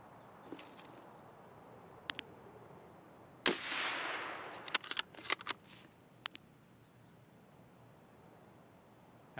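Gunfire in the Escape From Tarkov video game: one loud shot with a ringing tail, then a short cluster of sharp cracks and a few isolated distant pops, all fairly faint overall.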